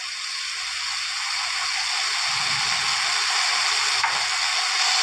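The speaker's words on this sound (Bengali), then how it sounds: "নেড়ে রসুন বাটা 20 সেকেন্ড ভেজে নিচ্ছি" Garlic paste frying in a pan for fish curry, giving a steady, close broadband sizzle that holds evenly throughout with no talking.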